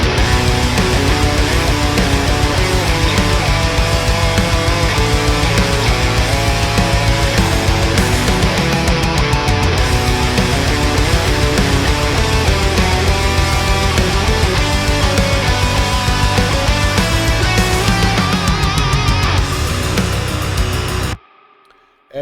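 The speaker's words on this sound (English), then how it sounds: "Now let's move on to the lead guitars and let's jump to this little solo here." Lead electric guitar solo played through an amp with a green overdrive pedal and extra gain and mids, sustained and dense over a full band mix for about twenty seconds before cutting out abruptly.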